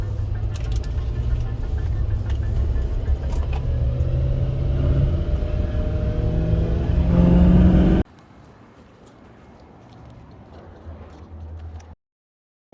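A repaired diesel pickup truck idles and revs, a close, heavy rumble with a rising rev near the end before the sound cuts to a quieter, fainter idle.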